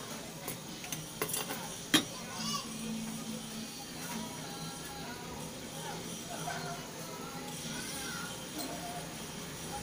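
Bihon rice noodles being turned over in a pan make soft stirring scrapes and a few sharp utensil clicks at the start over a faint steady sizzle, while a person talks throughout.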